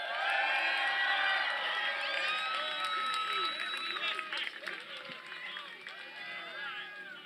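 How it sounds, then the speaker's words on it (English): Convention crowd at an anime panel cheering and applauding as the voice actor of Goku from Dragon Ball Z is welcomed on stage, a dense sustained wash of claps and whoops that tapers slightly toward the end. "Can you please cheer them on?"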